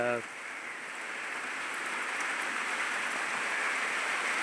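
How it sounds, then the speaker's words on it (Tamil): Heavy rain pours down in a dense, steady hiss that fills the whole clip and swells slightly over time, with a brief voice cut off at the very start. "அவ்வளவு மழை அவ்வளவு தண்ணி"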